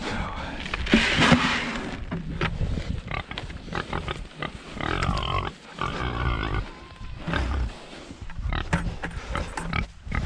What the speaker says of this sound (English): The pigs are easy to get back in the trailer.